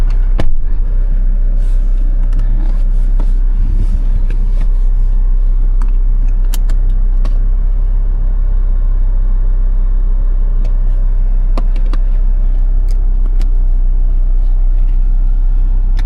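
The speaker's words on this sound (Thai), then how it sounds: "เดี๋ยวมาลองขับกันนะครับ" A 2012 Mazda four-door 4x4 pickup on a test drive, its engine and road rumble a steady, close drone with low-frequency body throughout, with occasional clicks and knocks from the cabin and no speech.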